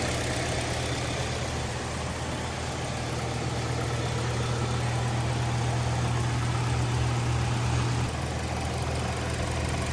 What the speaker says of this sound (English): the engine has been running for like probably 5 to 10 minutes now